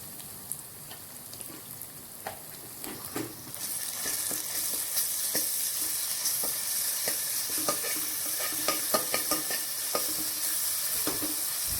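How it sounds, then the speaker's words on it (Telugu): Onions already fried golden brown, with ginger-garlic paste added, sizzle loudly in a pan for an Andhra-style country chicken curry. A constant hiss continues throughout, broken by frequent sharp scrapes and clinks of stirring. "గోల్డెన్ బ్రౌన్ కలర్ వచ్చేంత వరకు ఉల్లిపాయలను వేయించుకుని 2 స్పూన్ల అల్లం వెల్లుల్లి పేస్ట్ని వేయించుకోవాలి"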